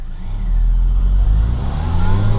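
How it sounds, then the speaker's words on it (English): A car accelerates hard from low speed ahead of a braking test, the engine note rising loud and close as revs climb steadily throughout. "we're going to have to accelerate pretty hard for this one"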